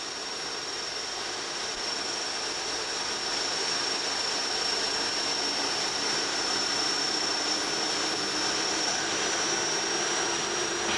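A Fouga CM.170 Magister jet of the Red Devils display team flying, a steady, broad jet roar with a high whine running through it, constant and moderately distant for the whole stretch, no voices.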